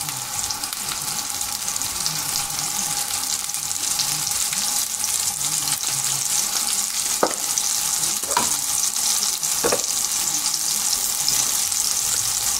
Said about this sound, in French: On les fait revenir de chaque côté